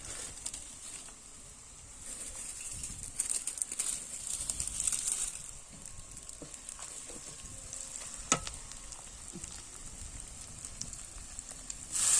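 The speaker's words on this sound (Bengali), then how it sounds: "লাল করে মশলাগুলো ভাজা হয়ে গেছে এবার দিয়ে দিলাম একটু লঙ্কা গুঁড়ো আদা" Spices browning in oil in a pan with chili powder and ginger added, a steady bright sizzle with occasional stirring scrapes, close and fairly loud with no talk.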